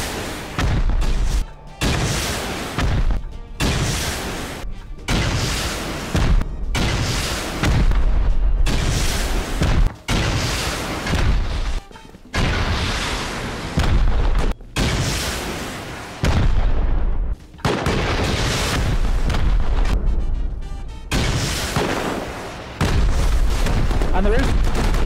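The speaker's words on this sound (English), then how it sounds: "Oh, rocket! Ooh, hit the lower part of the China wall right here." Repeated heavy rocket blasts slamming into a base wall in Rust, a long run of loud booming impacts with brief gaps between them, while players talk over the barrage.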